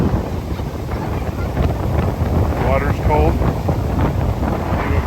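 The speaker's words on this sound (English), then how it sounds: "It is windy." Strong wind buffets the microphone near a beach pier, a steady broadband roar with water and surf noise beneath, while a voice speaks briefly over it.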